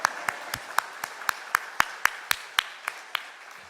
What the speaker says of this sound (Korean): 우리 찬양대와 현악반 위에 다시 한번 뜨거운 격려의 박수 주십시오.